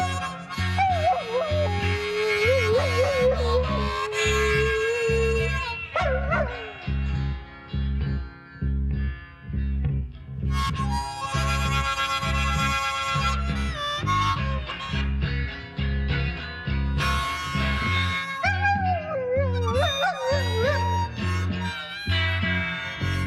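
A dog barks and howls along with music on a recording, its wavering howls rising and falling over sustained instrumental tones and steady low notes.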